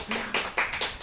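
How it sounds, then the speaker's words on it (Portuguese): Audience applause from a seated crowd at a Brazilian talk-show taping, a short burst of claps rising and falling over about a second, fairly close and with no voice over it. "Palmas, pessoal."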